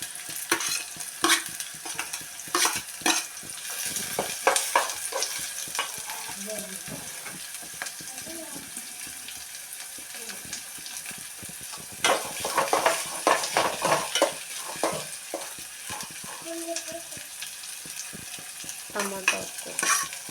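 Chili and onions frying in a pan, with a steady sizzle running throughout and repeated scraping stirs and clinks of a utensil against the pan.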